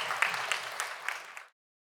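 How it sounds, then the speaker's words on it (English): Brief, fairly faint applause from an audience after a panel discussion at a career and networking event, scattered claps that cut off abruptly after about a second and a half. "a big round of applause for this discussion and panelists"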